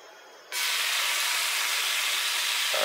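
Thin slices of beef bacon hitting a hot pan, a sudden loud, steady sizzling hiss that starts abruptly and holds for a few seconds, close by.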